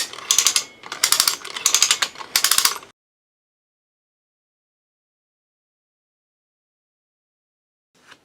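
A Haul Master 2 ton cable winch come-along ratchets in four quick bursts of rapid clicking, loud and close, followed by silence and one brief faint click at the end.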